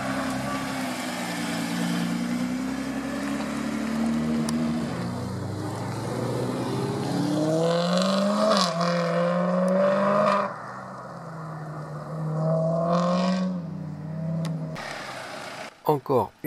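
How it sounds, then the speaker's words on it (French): A Nissan GT-R and an Audi RS5 leave the Magny-Cours circuit, their engines droning loudly nearby with rising and falling revs as they pull away, with voices mixed in and a few sharp knocks at the very end. "On va écouter le bruit des deux moteurs."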